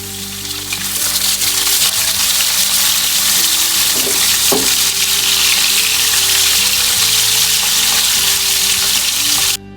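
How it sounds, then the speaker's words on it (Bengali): Tilapia fish pieces fry in oil with a loud, continuous crackling sizzle and a steady hiss, a couple of brief pops standing out midway before the sound drops off at the end. "আর আমি ফাঁকি দিয়ে মাছটা ভেজে নিব"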